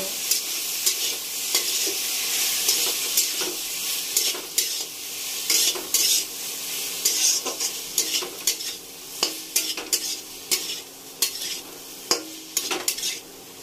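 Potato pieces stirred in a hot pan with turmeric and salt for masala aloo bhaja, a steady sizzle of frying punctuated by repeated clinks and scrapes of the spoon against the pan.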